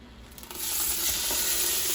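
Pork for carnitas searing in a pressure cooker on its sauté setting, a steady close sizzle that swells within the first second and then holds evenly, with no talking.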